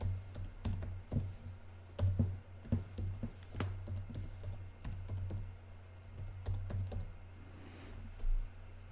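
Bursts of typing on a computer keyboard while signing in during a Linux Peppermint 9 install, quick clicky keystrokes in uneven runs with short pauses, close and moderately loud over a steady low hum.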